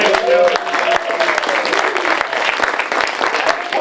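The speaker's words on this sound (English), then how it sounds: "A round of applause to this team." Loud, steady applause fills a comedy show venue as the audience claps for a team, a dense continuous roar of hands with cheering mixed in, holding at full level throughout.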